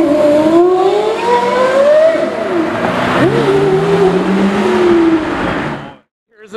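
Porsche Carrera GT sports car driving past at a cars and coffee meet, a loud high-pitched engine wail rising and falling as it goes by, then cutting off abruptly near the end.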